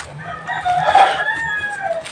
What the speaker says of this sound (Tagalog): May ihalas na manok.